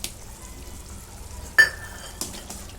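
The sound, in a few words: khoa being added and stirred into palak paneer in pan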